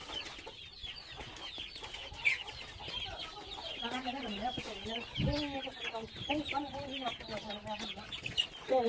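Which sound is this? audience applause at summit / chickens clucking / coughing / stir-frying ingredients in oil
chickens clucking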